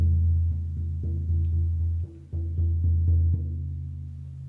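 A frame drum used as a healing drum, struck in a steady series of resonant low booming beats that ring and overlap, played alone at a moderate volume.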